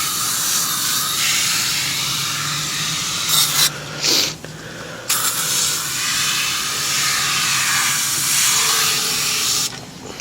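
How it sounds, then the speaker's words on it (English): Loud, close hissing spray from an aerosol can of foaming coil cleaner on a Whirlpool AC unit runs in long bursts, with brief pauses and a few short interruptions between sprays. "spray that into there, and maybe it'll foam up"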